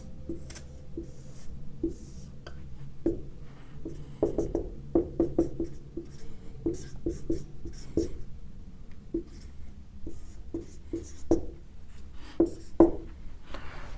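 Pen writing on paper, a close, quiet run of scratchy strokes and taps in irregular bursts, with no talking over it.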